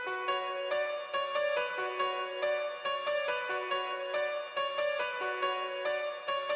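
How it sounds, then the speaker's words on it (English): Grand piano preset from the Nexus plugin in FL Studio plays a steady counter melody of repeated bright notes in a regular rhythm, clear and up front with a touch of reverb and no talking. "we're using the Nexus Grand Piano preset"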